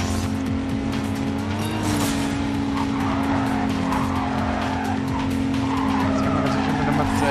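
A race car in Need for Speed Carbon brakes hard with tires skidding and squealing across the road, steady and loud over a constant engine drone, with a voice talking over it.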